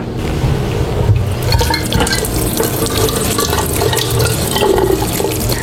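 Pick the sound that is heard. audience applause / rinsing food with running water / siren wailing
rinsing food with running water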